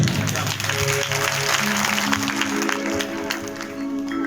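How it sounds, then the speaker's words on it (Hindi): Applause from a crowd at a music and dance performance rattles steadily for several seconds, blended with sustained instrumental tones and some voices. "जोरदार ताली अपने लिए भी।"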